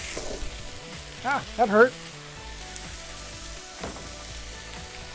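Hot oil sizzles and spatters steadily in a stir-fry pan with beef and vegetables, a continuous close crackle under a speaking voice.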